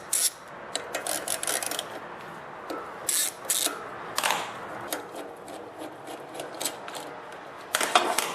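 Metallic ratcheting, scraping and clicking as a faulty ignition module is taken off a generator, in short irregular bursts of close mechanical work with pauses between them.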